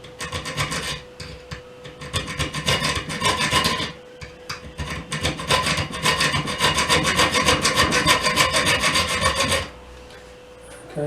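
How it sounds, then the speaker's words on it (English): A file or small saw rasps back and forth through a tight-fitting fishing rod tip ring, cutting diagonally across it in close, loud, rhythmic strokes with a few short pauses, no voices present. "it won't take long to get through that, but just go diagonally across"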